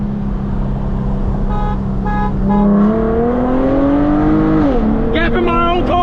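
An Infiniti G37 coupe with a full titanium Tomei exhaust revs loudly, its engine note climbing steadily before dropping off sharply, with brief horn-like blasts at the end and voices in the background.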